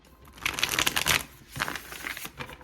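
A deck of tarot cards being shuffled by hand, giving bursts of riffling, slapping card noise in two main runs with short pauses between them, close up and with no voices.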